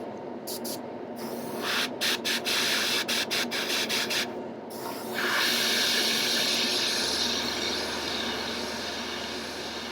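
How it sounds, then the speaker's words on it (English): An airbrush hisses paint in a string of short bursts, then settles into one longer continuous spray, close and fairly loud, with a steady compressor hum underneath. "That's all I want to do with the airbrush."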